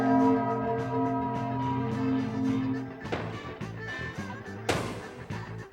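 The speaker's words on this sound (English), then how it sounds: "All right, now it's chime time." A clock chime from a comedy horror TV show rings out in sustained, layered bell-like tones, then two sharp, loud crashing hits break in partway through.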